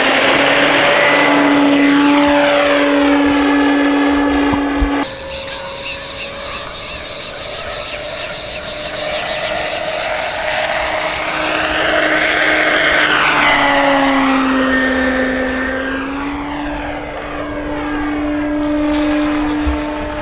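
A Carbon-Z T-28 radio-controlled model airplane buzzes steadily, its pitch rising and falling as it passes and turns overhead, loud and continuous.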